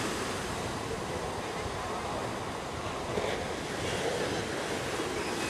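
Rough sea surf breaks on the beach at Gizzeria on Italy's Calabrian coast on a windless summer morning, a steady dense wash of crashing waves that fills the whole stretch without pause.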